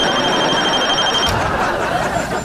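A telephone rings in a steady electronic trill that cuts off abruptly after about a second, followed by a dull thump and room noise.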